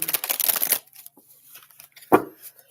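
Tarot cards are shuffled in a quick riffling burst for under a second, followed by quiet soft handling and one sharp slap or tap of the deck near the end.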